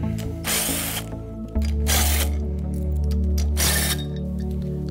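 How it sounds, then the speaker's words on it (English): Power drill driver with a hub nut socket working a hub cap off a wheel hub during a unitised bearing change, a loud steady motor whine with repeated ratcheting bursts that rise and fall, close and continuous. "First we remove the hub cap."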